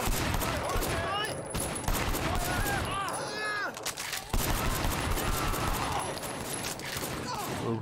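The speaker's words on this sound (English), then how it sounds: "Oh, it's gunfire." Sustained bursts of gunfire from the open-world game Sleeping Dogs: Definitive Edition during a police hostage situation, loud and dense volleys layered over game music and radio chatter throughout.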